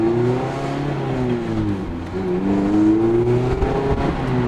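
Mazda Miata fitted with a California-spec aftermarket exhaust, engine revving up and down through several rising and falling pulls, a loud nearby buzzy exhaust note with no talk over it.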